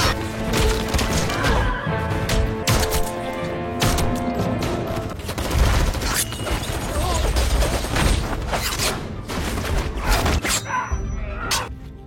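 A gunfire shootout in the Korean film The Witch, with constant, loud overlapping shots mixed with crashes and splintering impacts over a busy action soundtrack. Voices can be heard faintly in the mix.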